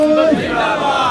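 Lawyers at a city court protest against Indian aggression chant slogans in support of the Pakistan army, a loud crowd of raised voices shouting together, close and dense with a brief sharp cry standing out.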